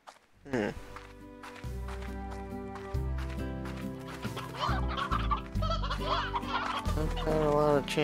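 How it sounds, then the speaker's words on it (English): Chickens clucking in the video game Slime Rancher, repeated close clucks and squawks layered over game music while a person talks and giggles. "Chickens."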